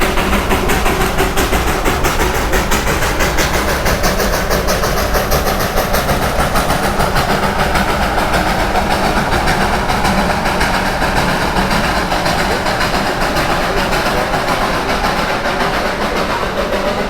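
Darjeeling toy train at Batasia Loop, a loud continuous rumble of the small engine and rolling cars with a rapid rhythmic chugging that persists throughout, no talk.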